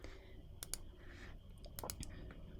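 A computer mouse clicks through Photoshop text effects: about eight sharp, close clicks at irregular intervals over a quiet room background.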